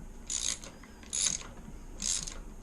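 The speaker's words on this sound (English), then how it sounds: "So I've got a 1/2 inch socket here." A 1/2 inch socket wrench ratchets on the nut of a fishing trolling motor in a kitchen: three short, crisp clicking bursts spaced about a second apart, close to the microphone.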